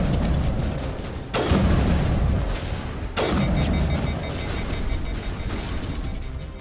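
Two booming grenade blasts in Mass Effect 1, each a sudden loud burst trailing into a rumbling decay, spaced about two seconds apart over a steady background of combat noise.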